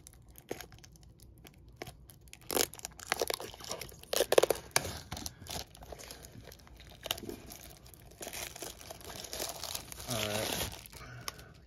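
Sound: cutting open the plastic seal of a trading card booster box

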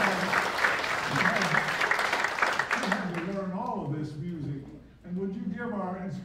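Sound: applause

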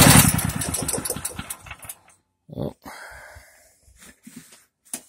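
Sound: Firman H07552 dual fuel generator running on propane

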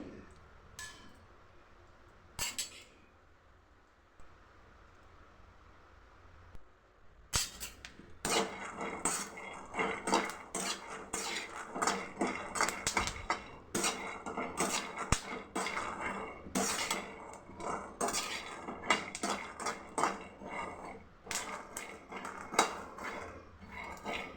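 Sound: stirring peanuts roasting in a pan

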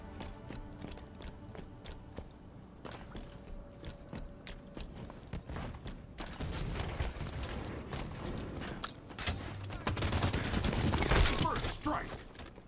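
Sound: gunfire in the video game Halo 5

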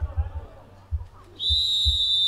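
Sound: referee's whistle at American football game

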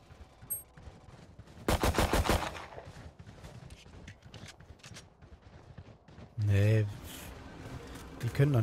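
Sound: gunshots in a video game

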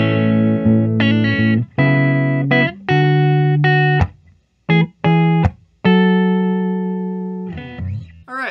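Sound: electric guitar neck pickup

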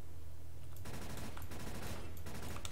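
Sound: gunshot headshot in video game CS:GO

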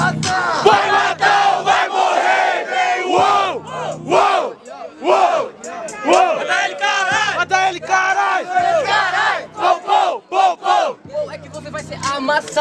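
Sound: battle rap audience roaring and cheering

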